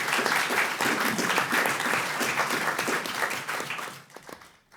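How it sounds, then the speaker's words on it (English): Audience applause for panel speakers at a Brussels discussion event, a dense steady round of clapping from a room crowd that holds for about four seconds before thinning out and fading. "So if you could all just give the speakers a round of applause."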